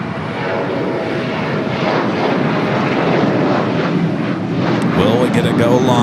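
A United airliner roars down runway 25 right on takeoff at LAX, a loud, sustained jet engine rumble building steadily and staying close throughout, with no one speaking.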